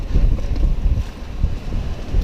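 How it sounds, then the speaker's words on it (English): Strong wind of about 35 knots gusting to 40 roaring and buffeting at sea off North Carolina, with heavy low gusts and rushing water under a sailboat. "It's a pretty good wind, probably 35, maybe gust to 40."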